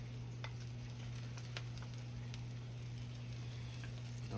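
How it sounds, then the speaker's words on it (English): A butter-brushed turkey sandwich fries in a hot skillet with a soft, steady sizzle and scattered faint ticks and pops, quiet and close, under a low constant hum. "Throw it in the skillet here, it's heating up."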